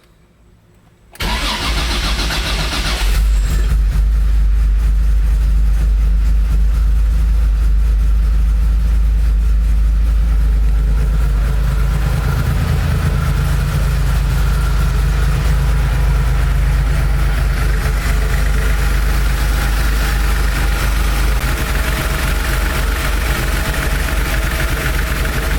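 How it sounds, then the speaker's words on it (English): A classic Porsche 911 with low battery voltage cranks briefly after silence, catches and settles into a loud, steady, close idle with a continuous low rumble and no talk. "Start up the car."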